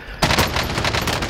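Short burst of rapid automatic gunfire in Call of Duty Warzone, loud and dense, kicking in suddenly after a brief quiet lead-in.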